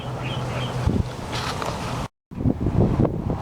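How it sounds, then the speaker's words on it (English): Strong wind buffeting the microphone in rough, continuous gusts in a hot Southern California home garden, loud and close, with a brief dropout partway through. "it's really windy even though it's over 100 degrees out here"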